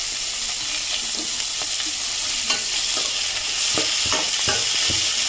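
Crushed tomato and broad beans are sautéed in a pan, giving a steady close sizzle broken by repeated spatula scrapes and stirring taps, with no talking.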